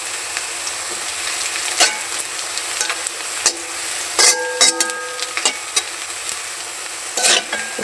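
Banana flower and potatoes frying in a pan, a continuous crisp sizzle with intermittent scraping and clinking stirs of a utensil. Close and clear, with no voices.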